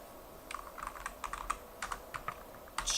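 Close keyboard typing, a fast irregular run of crisp key clicks over faint background hiss, finishing with a louder keystroke or two.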